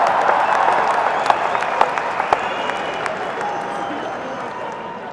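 A crowd at Navjot Sidhu's political rally claps in sustained, dense applause that slowly tapers off, with a few sharper claps standing out and a murmur of voices beneath.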